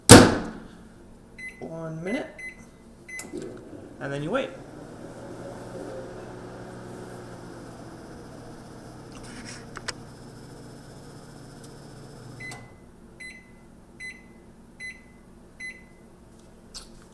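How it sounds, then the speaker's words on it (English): A microwave oven heats brown-and-serve sausage on a paper towel: a sharp door thud and keypad beeps, then a long steady hum with light clatter, followed by a string of evenly spaced end beeps, with brief talking early on. "throw it in the microwave,"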